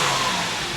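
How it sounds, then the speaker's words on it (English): A Porsche 911 engine revving briefly, a loud rising mid-pitched roar heard close up with no voices. "I gotta rev it at least once"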